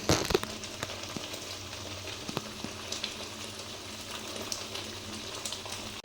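Spice paste with salt and turmeric frying in oil in a pan, a steady close sizzle and crackle running throughout with occasional stirring scrapes, no voices.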